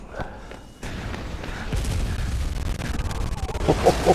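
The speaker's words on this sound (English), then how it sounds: "Oh, explosion." An explosion in the video game GTA: Vice City after a moonshine still catches fire, a sudden burst followed by a sustained rumbling roar and crackling debris over several seconds.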